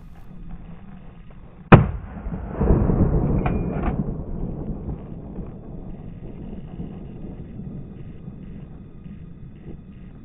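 Rifle shot at a wild boar during a driven hunt in the woods: a single sharp, loud crack followed by a rolling echo and wind-buffeted rumble that fades over several seconds, with no one talking.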